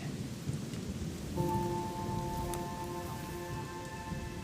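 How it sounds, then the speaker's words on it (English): Rain falling over a rural farm area near harvested wheat fields, a steady dense patter with a low rumbling undertone and a faint tonal hum joining partway through, no voices. "As if by clockwork, it's raining."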